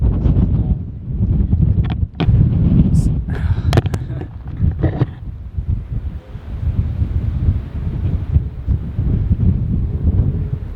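Strong gusting wind on the rooftop of a castle in Milan, buffeting the microphone in a loud, continuous roar with a short lull midway.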